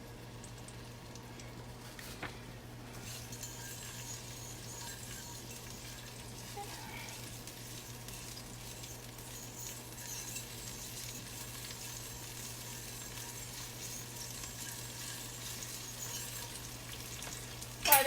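Garlic and butter sizzling in a pan for chili mac, a soft continuous frying hiss over a low steady hum, with a brief clatter near the end.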